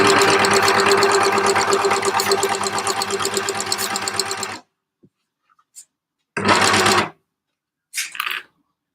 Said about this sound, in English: when you're using the overlocker